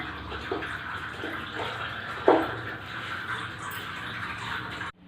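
Water poured from a vessel into a pot of spiced bottle gourd (lauki) and urad badi curry, a steady close splashing trickle with a brief louder slosh midway, no talk.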